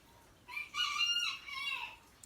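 A rooster crowing once, a loud drawn-out crow that rises and then trails off, close by with no talking.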